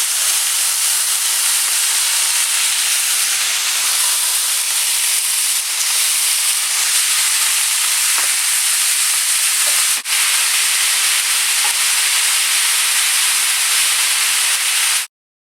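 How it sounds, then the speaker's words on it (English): Marinated flank steak sizzles steadily in hot skillets, a loud continuous hiss holding from start to finish with only slight fluctuation, then cutting off abruptly at the end. "Now that our skillets have warmed up, get your prepared flank steak into each one"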